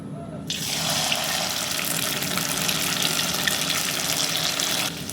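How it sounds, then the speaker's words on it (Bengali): Spring rolls deep-frying one by one in plenty of hot oil in a kadai, giving a steady, dense hiss and crackle close by that runs unbroken through the whole stretch. "এই স্প্রিং রোলগুলো ভাজার জন্য কড়াইতে বেশ খানিকটা তেল দিয়ে ভালোভাবে গরম করে নিয়েছি। তারপর এক এক করে ভেজে নিচ্ছি"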